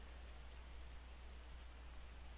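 Rain falls steadily in the video game Terroir, a soft, even hiss of rainfall heard alone with no voices.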